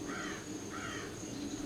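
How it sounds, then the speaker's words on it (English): Crows caw twice at a steady rhythm, moderately distant, over a constant background hiss. "come on, crows, leave me alone"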